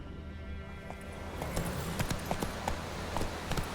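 Horse hooves trot in The Witcher 3, a steady run of sharp clip-clop strikes that start soft and grow clearer and louder partway through, with no voices over them.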